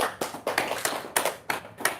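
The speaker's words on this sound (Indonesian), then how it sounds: "Tepuk tangan dulu dong." A small group claps hands indoors in a quick, uneven burst of sharp claps lasting about two seconds, close and fairly loud, with no talking.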